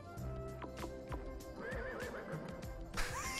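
A horse in the video game Amazing Island neighs with a rising whinny over light clip-clop hoof sounds and game music, followed by a brighter burst near the end, heard with no talking.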